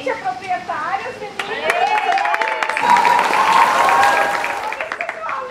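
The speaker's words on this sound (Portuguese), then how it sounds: "E uma salva de palmas." Applause from a small crowd at a spring party in a care home for the elderly builds up under cheerful talking and voices, clapping rising in the middle and tapering off near the end.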